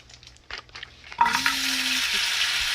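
Shrimp drop into a hot pan for fried rice after a few quiet handling clicks, setting off a sudden loud sizzle that keeps hissing steadily, with a brief scrape of a utensil.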